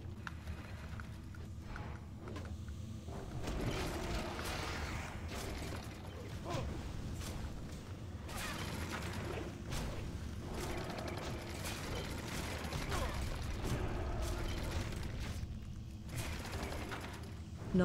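Mechano Tank machinery clanking and grinding in World of Warcraft Classic's Gnomeregan, a steady dense mechanical rattle with metallic ticks and thuds running throughout at moderate level.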